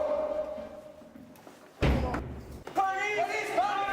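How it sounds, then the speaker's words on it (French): A door is kicked in with one heavy, close slam, followed by shouting voices. "Défonce la porte!"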